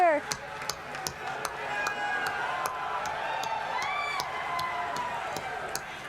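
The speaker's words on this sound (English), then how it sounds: "That clapping sound." A crowd at the PlayStation Experience 2016 event claps in a steady rhythm, sharp regular beats sounding over sustained electronic music tones, moderately loud and continuous.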